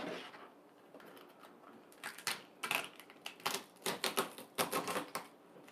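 A kitchen knife cuts through the second half of a lobster for mac and cheese, making a series of sharp crunching clicks and cracks that quicken toward the end, close and fairly quiet.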